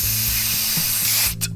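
Aerosol spray can giving one sustained, loud hiss for over a second, cutting off abruptly, followed by a couple of faint short puffs.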